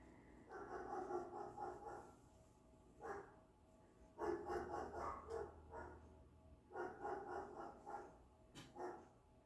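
A dog barks repeatedly in a park, giving short clustered bursts of yapping barks in several separate groups at moderate distance, with quiet gaps between them.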